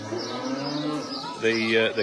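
A Shorthorn cow on a farm lows twice, a long deep moo followed by a short pause and a second moo, loud and close.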